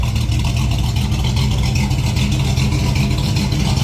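A Ford F100 truck engine with a bed-exit exhaust idles at about 700 RPM, a steady low rumble, close and fairly loud, with an even, unchanging throb and no voices.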